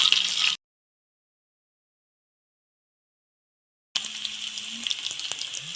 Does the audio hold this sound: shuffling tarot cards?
no